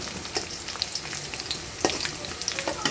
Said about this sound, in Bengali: চারিদিকে বেরেস্তাগুলো মোটামুটি হয়ে যাচ্ছে আর একটু কালার হলে আর কি নামিয়ে দেবো